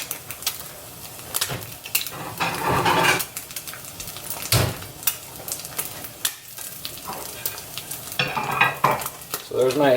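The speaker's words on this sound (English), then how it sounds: "there's my egg with ghee, and you'll notice the egg is popping, but the ghee is still not burning" An egg frying in ghee in a pan sizzles steadily with loud intermittent pops and crackles, plus a few clinks of utensils against the pan, with no talking.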